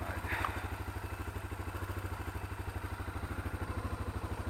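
A Kawasaki Bayou 250 quad's single-cylinder engine chugs in a steady, evenly pulsing idle close by, with a faint brief voice near the start.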